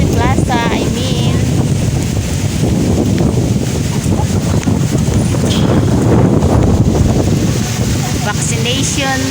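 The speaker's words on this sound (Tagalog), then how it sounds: "Wow, very windy." Strong wind buffets the microphone in an open town plaza in the Philippines during a light shower, a loud continuous rushing roar with gusts throughout.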